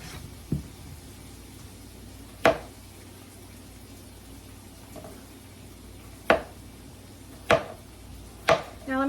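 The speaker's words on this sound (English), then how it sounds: "So these potatoes are already like really washed and clean. So I'm gonna go ahead and just slice them." A knife slices through washed raw potatoes on a cutting board, giving about six sharp, separate chops spaced a second or two apart against a quiet background.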